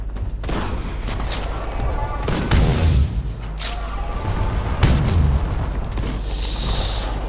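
Gunfire and explosions from the Titanfall 2 pre-alpha tech test, with loud booming blasts and crackling bursts of fire rolling one after another through a dense, continuous battle din.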